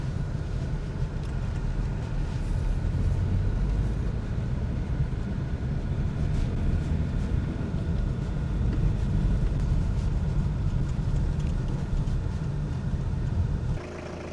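A car engine runs steadily with the car moving, a continuous low rumble and road noise that holds for about fourteen seconds before dropping away at the end.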